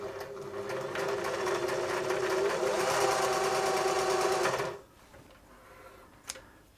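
A Singer 631G sewing machine runs steadily in lock stitch, a loud continuous whirring rattle for nearly five seconds that stops abruptly, leaving quiet room tone with one small click.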